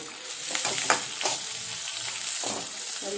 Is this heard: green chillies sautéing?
yes